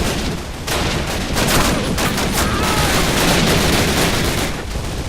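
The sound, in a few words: gunfire in the video game Call of Duty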